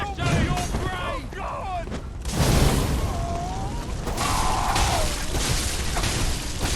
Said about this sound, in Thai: ไม่ใช่นะผมได้ยินเสียงปืนอะ